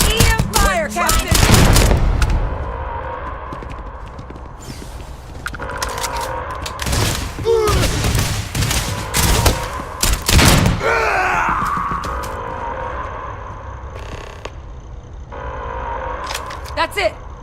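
An EM rifle in StarStruck 2 fires a mix of loud bursts, thumps and sweeping electronic tones, with people shouting over and between the shots.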